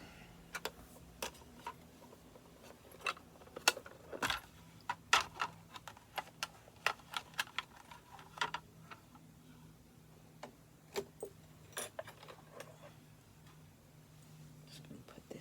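A zipper foot snaps and clicks into place on a sewing machine, with a string of small, close plastic and metal clicks and taps at an irregular pace over quiet room tone.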